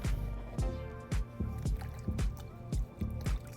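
Small splashes as thin slices of root vegetables drop one after another into water, a steady irregular series of wet plops with no talking.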